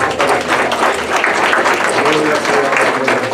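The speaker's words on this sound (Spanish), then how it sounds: "Fuertemente el aplauso" Church congregation breaking into loud applause after a prayer during a sermon, dense clapping blended with voices and cheering over a few seconds.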